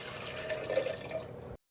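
Water runs into a pressure cooker holding sprouted horse gram, a short steady splashing pour that stops abruptly.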